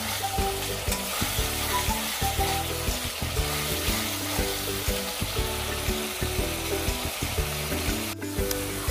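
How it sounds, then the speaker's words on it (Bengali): Spice masala for vegetarian ghugni frying in a pan while being stirred constantly, a continuous close sizzle broken by rhythmic scraping strokes of the spoon, with no voices. "অনবরত নাড়াচাড়া করে যেতে হবে, নয়তো মশলাটা নিচ থেকে পুড়ে যেতে পারে।"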